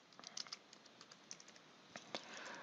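Question text is typed on a computer keyboard in quick, light, irregular clicks and taps, close and fairly quiet, with no talking.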